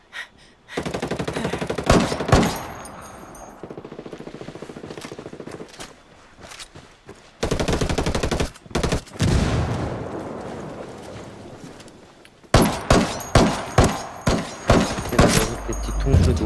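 Gunfire in a Ghost Recon player-versus-player match: loud, close automatic bursts in several stretches, separated by short gaps and a few single thuds, ending in a string of rhythmic shots.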